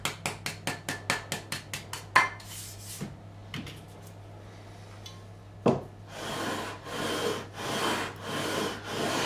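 Frets on a Crafter GAE45/N guitar are sanded with 400 grit paper: a quick run of about ten short, even rubbing strokes, a few scattered scrapes, then longer, louder continuous sanding passes close by.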